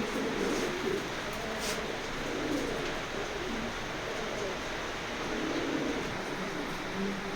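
A released male racing pigeon and others coo steadily and softly, low throaty calls close by over a hissy background, with no voices clearly heard.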